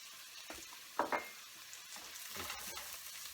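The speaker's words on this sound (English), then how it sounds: "A quick toss." Red chili powder frying in oil in a pan gives a soft, close sizzle. A couple of sharper scraping clatters come as the pan is tossed and stirred, and no one speaks.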